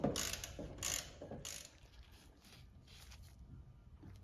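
A ratchet works spark plugs loose on a Nissan D21 pickup, a quiet run of quick clicking strokes in bursts, close up and alone.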